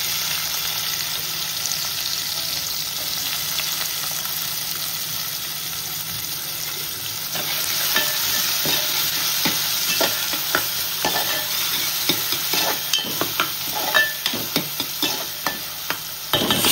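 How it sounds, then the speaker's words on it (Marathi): Chopped onion with ginger, garlic and chilli frying for aagri-style mutton biryani, a continuous close sizzle that grows busier halfway through, punctuated by repeated clicks and scrapes of stirring, with no voices. "कांदा शिजवून देऊ व्यवस्थित"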